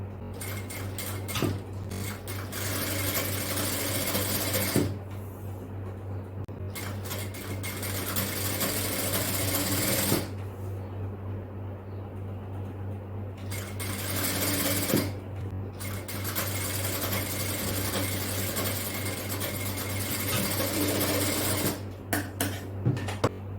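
A sewing machine stitches a fabric seam in loud, steady runs of rapid mechanical chatter, stopping briefly several times before starting up again.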